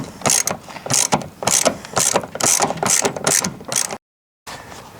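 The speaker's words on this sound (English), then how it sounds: "using a 12mm socket, as you can see, comes out reasonably easily" A 12mm socket on a ratchet undoes a bolt on a car's rear strut, giving repeated close, loud clicking bursts in an even rhythm, then a brief gap of silence.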